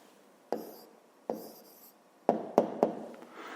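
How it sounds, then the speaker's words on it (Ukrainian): A pen writes an answer in a notebook: five quiet, close scratchy strokes, two spaced apart, then three in quick succession, with silence between. "Ну а зараз записуємо відповідь."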